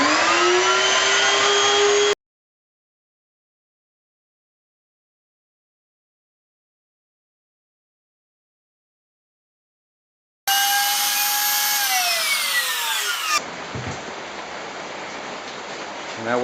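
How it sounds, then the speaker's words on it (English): A router fitted with a rabbet bit and copy bearing cuts a rosewood gift box, giving a loud, high, steady whine that changes pitch under load, with a long stretch of silence in the middle. "It's called a rabbit bit with a copy bearing, and that's mounted on the router"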